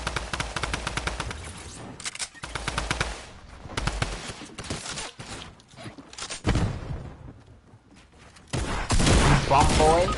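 Rapid bursts of video game gunfire crackle through a fast match, automatic fire alternating with short pauses and louder volleys near the end, while players talk over the shooting.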